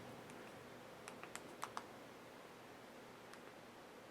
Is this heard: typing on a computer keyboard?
yes